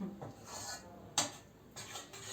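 A utensil stirring food scrapes and knocks around inside a metal pot, with a sharp clank partway through and soft stirring noises before and after.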